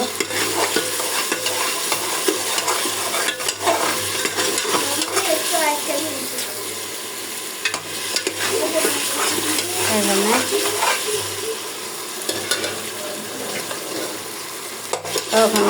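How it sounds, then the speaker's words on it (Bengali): Masala for beef rezala stir-fried in a pot, a continuous close sizzle with frequent scraping and stirring strokes, faint voices including a child's in the background. "মশলাটা ভালো করে কষিয়ে নিব"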